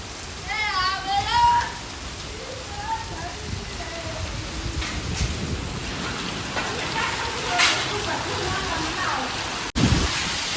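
Steady heavy rain pours down in a constant hiss with strong wind, with faint voices and a few birdlike chirps early on.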